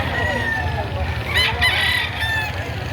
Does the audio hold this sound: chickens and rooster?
yes